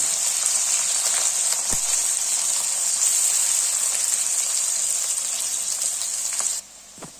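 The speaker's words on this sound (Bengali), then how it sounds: "পেঁয়াজ আর ক্যাপসিকামগুলো মোটামুটি ভাজা ভাজা হয়ে গেছে।" Chopped onion and capsicum fry in hot oil in a kadai with a loud, bright, continuous hiss that runs evenly and then cuts off sharply near the end.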